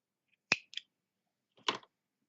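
Scissors snip through crochet yarn close by in a quiet room: a couple of sharp, crisp clicks, then a longer rasping snip a second later.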